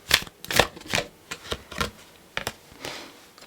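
A tarot deck shuffled close up in a series of separate crisp riffles and flicks at an uneven rhythm, fairly loud and clean, with no speech.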